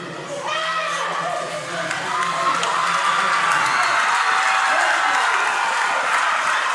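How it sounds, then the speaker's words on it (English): A sports crowd roars loudly and continuously at a Samoa IBFC Universal Cup event, the cheering swelling and holding steady with a voice talking over it near the start. "The crowd are going nuts"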